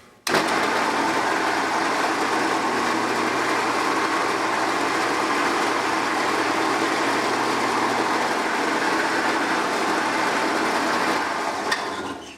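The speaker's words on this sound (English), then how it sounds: "And then just drill a little hole for hanging." A power drill with a 1/8 inch bit whines continuously up close for several seconds, drilling a small hole in a paper ornament, a steady high buzz that cuts off abruptly at the end.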